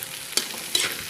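Egg is stirred into spicy fried rice in a hot pan, a soft continuous sizzle broken by two quick scrapes of the spoon.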